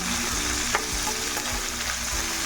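Tomato, onion, ginger and curry leaves fry steadily in hot oil for semiya upma, a dense continuous sizzle with a few faint utensil scrapes, close and without talk.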